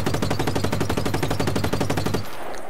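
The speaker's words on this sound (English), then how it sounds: "I need to shoot out a tire or something." Rapid machine-gun fire aimed at car tires in a Just Cause video game, a fast even stream of loud close shots lasting about two seconds before cutting off abruptly.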